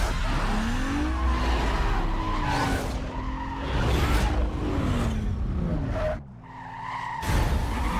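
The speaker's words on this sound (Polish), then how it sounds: "Piękna nawrotka" A car in Need for Speed Most Wanted (2005) skids through a turnaround with a long, wavering tire squeal over a loud engine roar. The engine drops away briefly near the end, then the car revs hard again.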